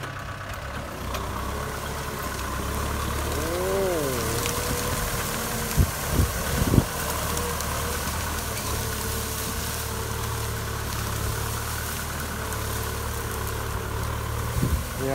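A Kubota M6040SU tractor engine idles steadily in a wet, overgrown field, a loud, continuous low rumble with a few brief clunks and shifts in pitch midway.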